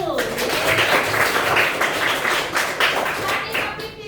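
Classroom applause, with many hands clapping in a steady, dense patter for about four seconds, while voices speak over it.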